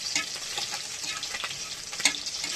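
Panch phoron whole spices sizzling in hot oil, a steady crackling fry with scattered sharp pops and one louder spit near the end, close and alone without voices.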